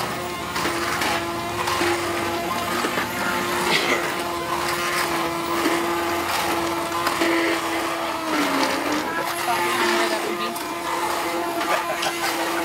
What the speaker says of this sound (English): Whoever invented the hand blender is a genius.